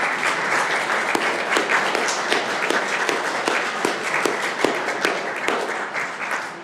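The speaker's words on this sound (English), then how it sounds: "give a round of applause to your parents" An audience at a county board of commissioners meeting applauds parents after a children's award presentation, with steady, moderately loud clapping and a few sharp, distinct claps standing out, continuing to the end with little talk.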